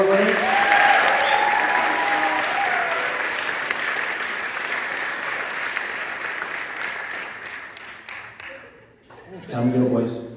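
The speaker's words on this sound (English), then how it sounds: "Round of applause for our Jazz Workshop award winner." Audience applause at a school awards ceremony for a jazz workshop award, a steady wash of clapping from a crowd that fades slightly before a voice speaks near the end.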